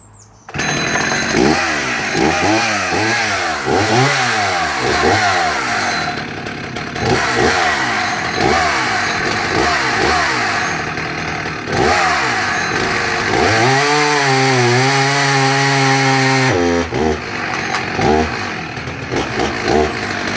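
Husqvarna 61 Rancher chainsaw revving hard and cutting through wood, loud and close, engine pitch repeatedly dipping under load then rising again, with a brief drop near the middle and a long steady high rev toward the end.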